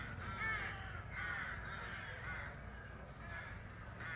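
Crows cawing around their nests in a town centre, several harsh caws repeating at a moderate distance over a steady outdoor background.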